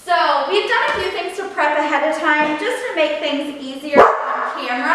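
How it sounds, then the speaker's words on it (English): Dogs bark and yip in a home kitchen while plant-based Thanksgiving side dishes are prepared, the barks fairly close but mostly buried under a person talking steadily throughout. "And I'm so sorry about the dogs, but she'll calm down in a second."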